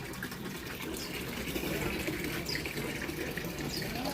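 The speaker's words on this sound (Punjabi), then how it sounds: "ਮੈਸਾਂ ਨੂੰ ਪਾਣੀ ਲੱਗ ਗਿਆ ਪਿਲਾਉਣ" Water gushes steadily as it is poured out for buffaloes to drink on a Punjabi farm, a continuous close splashing rush with no talk over it.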